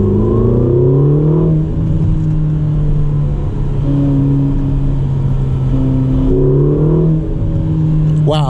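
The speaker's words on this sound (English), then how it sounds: "Want to see a little acceleration here?" A Ferrari California T hardtop convertible accelerates hard from inside the cabin, its engine note climbing in pitch through several gears with brief dips at each shift, loud and close.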